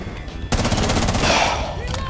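Rapid gunfire punched through a wall in Rainbow Six Siege, a dense automatic burst of close, loud shots lasting over a second, with a brief second burst just after.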